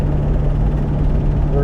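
A 1977 Dodge Adventurer truck engine held in a long second gear, a loud, steady low rumble with a constant droning tone, close up from inside the cab.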